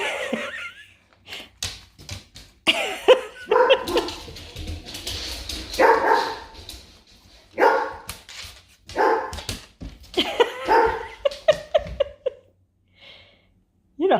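A puppy playing with a dead fly gives repeated short barks and yips in scattered bursts, close by and fairly loud, with soft laughter between them.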